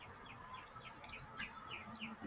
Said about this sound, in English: Birds are tweeting and everything.